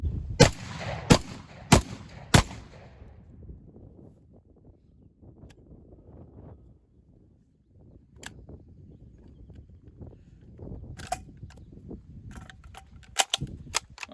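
A Panzer shotgun fires steel shot outdoors, four sharp loud blasts in quick succession at the start, then a quiet windy pause and a few more scattered shots and clicks toward the end.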